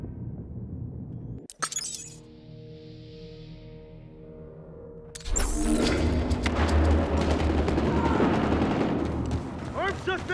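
Gunfire in the Battlefield Hardline video game: a sharp shattering blast, a quieter pause with a humming tone, then sustained loud bursts of automatic fire with scattered voice callouts.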